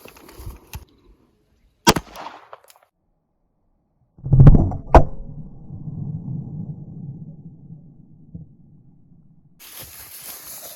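A 9mm pistol round fired at bulletproof glass gives one sharp, loud crack with a hard impact, followed by a lingering rumble and a few scattered clicks in an otherwise quiet space.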